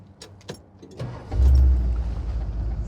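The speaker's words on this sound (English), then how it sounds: "You hear that 440 engine roar." 1970 Dodge Challenger R/T with a restored 440 V8 and automatic transmission starts up. A few faint clicks come first, then the engine cranks and catches into a loud, deep, steady idle rumble close by.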